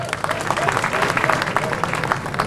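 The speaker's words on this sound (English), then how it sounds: "Clap for her." A rally crowd claps in sustained, dense applause, a continuous patter of many hands without a break.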